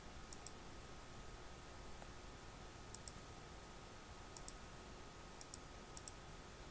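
Computer mouse clicks while working in an Excel spreadsheet, sharp faint ticks in small pairs and singles spread over several seconds against a steady quiet hum.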